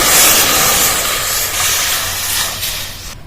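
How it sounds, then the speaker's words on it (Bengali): Water poured into a hot wok after frying bitter gourd, a loud rushing hiss of steam right up close that holds steady and then cuts off abruptly at the end. "কড়াইতে জল দিয়ে দিচ্ছি"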